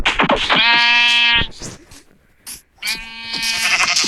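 Two loud, close sheep bleats from a game, each a wavering nasal cry about a second long, separated by a short pause with faint clicks.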